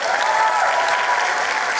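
Sustained audience applause for the top matric learner at the 2023 results announcement, a dense steady wash of clapping at even loudness throughout.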